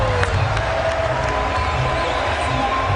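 A packed stadium crowd at a 2007 Cricket World Cup match between Australia and Bangladesh roars and cheers for Adam Gilchrist's fifty, a sustained, loud, dense wash of cheering with a faint commentary voice underneath.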